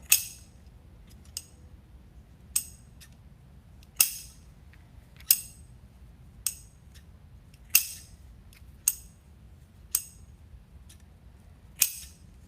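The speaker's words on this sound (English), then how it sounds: "I like my tails to be fanned out and cut at all different layers" Scissors cut ribbon tails for a farmhouse wreath, giving about ten crisp snips spaced roughly a second apart over quiet room tone. No one speaks.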